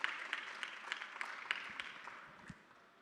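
An audience claps for a volunteer coming onto the stage at a Lenovo TechWorld India event, a scattered, modest round of individual claps that thins out toward the end.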